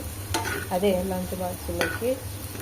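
A potato fry is stirred in a pan with steady loud sizzling throughout, punctuated by a few sharp scraping clacks of the spatula.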